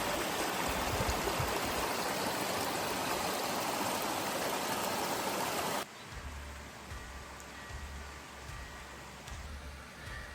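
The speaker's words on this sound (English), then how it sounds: "getting ready to cross this creek" A creek rushes loudly along a hiking trail between Santa Fe and Taos, a broad, steady wash of water. Midway it cuts off abruptly to a quieter scene with a low hum.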